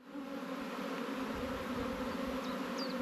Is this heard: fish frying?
no